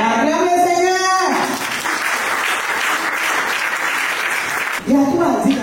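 Loud audience applause breaks out at a church women's conference sermon and fills the hall for about three and a half seconds, with a preacher's voice speaking before and after it.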